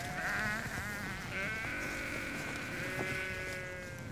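Sheep bleat repeatedly in long, wavering, overlapping calls on a Scottish farm in winter. The sound is loud and close, with the flock continuous and no talking.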